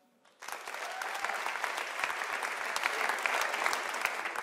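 A live comedy audience claps on request, the applause starting abruptly after a brief quiet moment and holding steady as dense, many-handed clapping that swells slightly toward the end.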